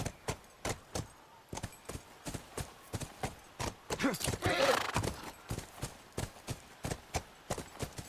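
Galloping horse hooves from the video game The Last of Us, a steady rhythmic run of sharp, close clip-clop beats with a brief neigh partway through and a whoosh of wind behind it.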